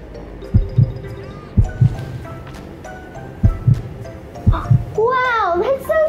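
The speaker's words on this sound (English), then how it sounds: "I can actually hear my heartbeat." Human heartbeat through a stethoscope-style listen: paired low thumps in a slow, regular lub-dub rhythm, loud and close, repeating four times before a voice talks at the end.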